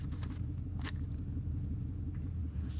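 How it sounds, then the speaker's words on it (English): Loud cars pass by outside, a low continuous engine rumble that stays steady throughout, muffled as if heard from indoors, with no talk. "Boy, there is a lot of loud cars today."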